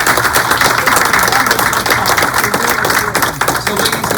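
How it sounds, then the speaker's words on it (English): Town hall audience giving a round of applause, dense sustained clapping from a crowd throughout, loud and continuous. "let's give them a round of applause"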